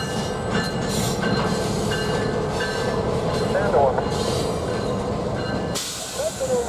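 A short CN freight train, job 568, rumbles during switching moves, with a steady rolling roar, air hiss and faint wheel squeals nearby, ending in a sharp burst of hissing air.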